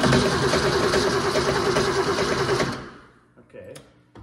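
An engine that cranks over without firing while the fuel pump runs, a loud steady mechanical churning that stops abruptly after a few seconds, followed by a quieter clunk and faint rattles.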